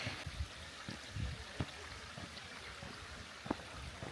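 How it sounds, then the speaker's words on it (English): A small autumn waterfall in a little ditch flows with a steady, close rushing and trickling of water, with occasional wind and a few light knocks. "I just went to the little waterfall."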